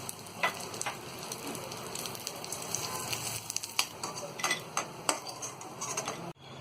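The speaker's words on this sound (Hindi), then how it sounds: "ये बची हुई घी में हम ड्राई फ्रूट को फ्राई करेंगे" Chopped almonds, cashews and pistachios fry in leftover ghee for Hyderabadi double ka meetha, giving a constant soft sizzle with occasional clinks of a utensil against the pan.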